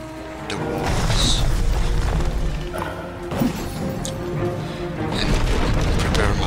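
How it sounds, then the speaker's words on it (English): Siege units pound castle walls in an Age of Empires castle siege event, a loud continuous barrage of heavy booms, crashes and thuds layered over battle noise, with no voice heard over the impacts. "So all I need to do is to break through the walls"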